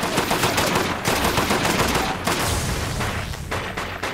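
An automated turret in the Deathgarden game firing sustained rapid bursts, loud and close, with a few brief gaps between the volleys.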